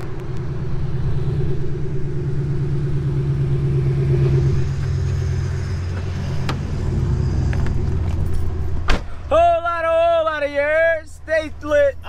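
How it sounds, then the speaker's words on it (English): A Chevrolet Impala SS idles with a deep, steady exhaust rumble on a cold start, loud and close, with keys jangling, and someone talks over the end. "Y'all want to hear that cold start right quick?"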